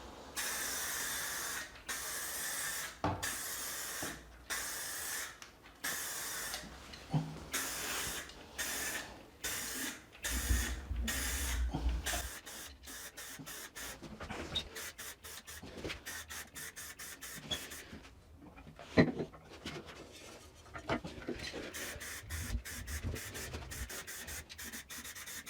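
Short bursts of aerosol spray paint hiss onto a metal motorcycle swingarm in a quick series of puffs, some longer than others, with faint clicks and handling noise between them.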